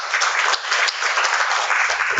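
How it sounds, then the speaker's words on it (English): Steady, dense applause from an audience at a roundtable event on teacher development, sustained and fairly loud throughout with no pauses. "I'm sure we can have a bigger round of applause for Ms. Sarabji."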